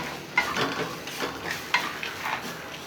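Grated coconut is stirred and sautéed in a silver kadai for peanut chutney: a spatula scrapes in repeated strokes over a light, continuous sizzle, close and alone.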